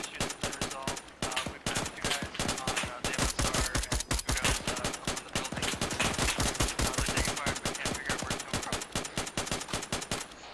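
Sustained gunfire in the ArmA 3 military shooter, rapid machine-gun bursts and dense overlapping shots, loud and close, keeping up an almost continuous rattle for the whole stretch.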